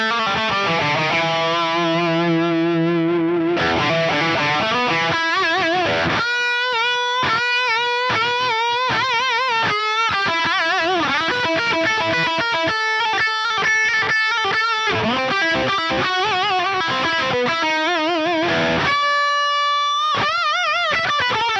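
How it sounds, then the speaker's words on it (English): Electric guitar through a Mercuriall Euphoria amp plugin with a dotted-eighth delay, picked notes and chords ringing out with rhythmic repeats, bright and sustained, played alone with no talking. "So I'm going to chuck a little bit of delay on there."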